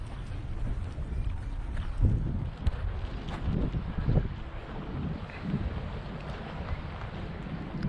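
A ferry sits at the dock on the Formentera route, its low engine rumble churning beneath gusting wind buffeting the microphone, with a few heavier thumps and surges along the way.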